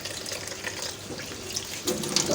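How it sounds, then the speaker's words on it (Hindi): Water runs steadily into a cooking pot in a home kitchen while aloo palak is being prepared, a close, continuous splashing pour with no talking. "इसमें हम थोड़ा सा पानी डालेंगे।"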